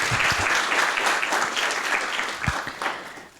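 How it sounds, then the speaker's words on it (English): Conference audience applauding a speaker at a youth agenda event, steady clapping throughout that thins slightly toward the end, with a few louder individual claps standing out. "If we can all have a round of applause for him."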